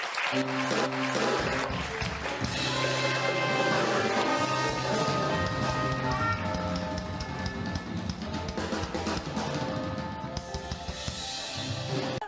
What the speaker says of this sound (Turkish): Buyurun alkışlarla buyurun